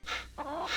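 Chickens in the Discworld video game give hen-like clucks and a squawking call, close and clear, in a short burst with a brief gap in the middle.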